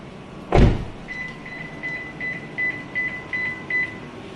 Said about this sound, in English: Those are the beeps to let you know that the keys, which are here, are not in the car